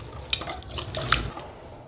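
Spice paste for tandoori chicken tikka being mixed in a bowl, soft wet squelching stirs with a few light clinks of a spoon against the bowl, close and fairly quiet.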